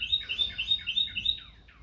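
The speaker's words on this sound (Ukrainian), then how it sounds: "Сподіваюся, що вам сподобалося співи цих пташків, які так старно виводять для вас ноти" Small songbirds sing nearby in a quick series of bright, repeated high chirps and tweets, evenly spaced, then trailing off into softer calls with no talking.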